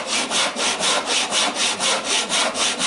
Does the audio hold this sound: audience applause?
no